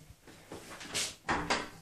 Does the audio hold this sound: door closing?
yes